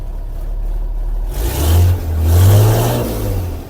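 A Presko 2.5 kW hydraulic power unit running on a Mercedes 814 truck: a loud, close, steady engine hum that rises into swelling revs partway through.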